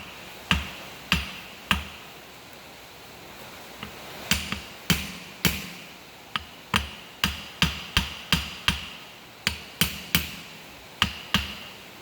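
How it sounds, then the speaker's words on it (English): A hammer taps on a multifuel injection pump, giving sharp metallic knocks alone in irregular clusters, some quick doubles, close and fairly loud. "I'm just tapping it. I'm not hitting it hard."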